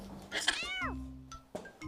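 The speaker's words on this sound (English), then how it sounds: "고양이가 걸어다닙니다." Cat meowing, one clear drawn-out meow that bends downward, followed by short chirpy calls, close and distinct with faint background sound.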